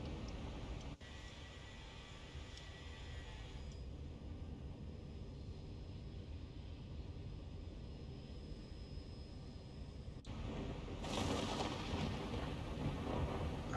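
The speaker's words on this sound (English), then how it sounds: "Yeah, listen to that thunder, my golly." Low continuous rumble of thunder over steady rain-like hiss in a flight simulator game aboard a Southwest Boeing 737 cruising above a storm, with a louder swell near the end.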